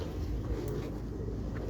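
Pigeons kept on a rooftop in Lahore, cooing softly in the background against low, steady ambient noise for a short moment.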